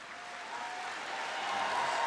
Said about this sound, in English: I can't help it if they cheer, I'm sorry.